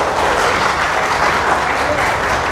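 Steady applause from a crowd, continuous clapping throughout without a break.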